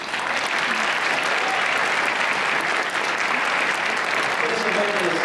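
Audience applause at the Taste Canada Awards Gala, a broad, even roar of many hands clapping that holds steady at full strength for several seconds, with faint voices underneath.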